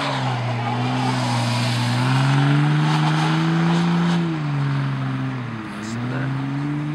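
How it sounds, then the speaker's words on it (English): A semi truck drifting on snow, its heavy engine droning loudly and continuously while the pitch swells and dips as the rig slides and throttles. "Semi truck drift."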